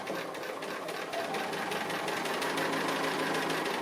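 A sewing machine stitches steadily around an applique, its needle hammering in a fast, even rhythm that is close and continuous with no pauses.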